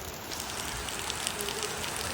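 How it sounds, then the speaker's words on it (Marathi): Heavy rain pours down outdoors on a trip to Nandikeshwar temple in Tilse, making a dense, steady hiss of drops that fills the whole clip. "काहीच फुल पाऊस लागलेला आहे आता समजून जा तुम्ही किती पाऊस लागलाय हे बघा"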